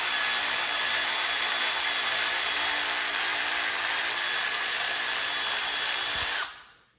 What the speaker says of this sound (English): So we'll just gently run that in with impact tools